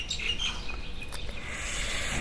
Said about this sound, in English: The birds are chirping, so I'm really sorry about the noise.